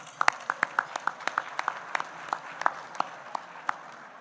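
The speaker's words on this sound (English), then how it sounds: "One more round of applause for our chapters and members." A small audience at a credit union hall of fame induction ceremony claps, with distinct, sparse, sharp claps in a steady patter, fairly close and without talk.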